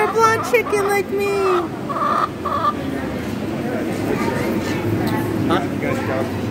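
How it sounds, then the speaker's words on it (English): Chickens cluck and call outdoors on a farm amid steady ambient noise, with people talking close by over the birds. "You're a blonde chicken like me."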